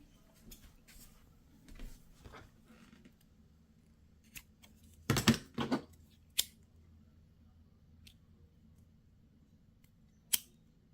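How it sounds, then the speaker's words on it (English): A few sharp, crisp snips of scissors, one quick cluster in the middle and a couple of isolated cuts later, close by in a quiet room. "Let me grab my good scissors"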